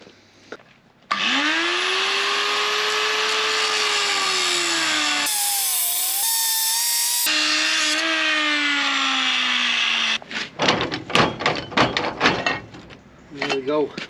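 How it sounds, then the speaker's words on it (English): An angle grinder cutting through a bent trailer jockey wheel, a loud continuous high whine whose pitch dips under load for about nine seconds, followed by clanking metal handling and a voice. "So we'll get the angle grinder here."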